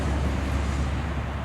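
A truck passing outside, heard as a loud, continuous low rumble of road traffic that holds steady with no voices.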